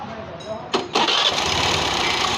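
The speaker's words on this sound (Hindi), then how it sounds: "अभी करते हैं हम बाइक को स्टार्ट।" A Hero Maestro Edge scooter engine cranks with two short bursts, then catches and settles into a steady, close, mid-pitched idle in a workshop.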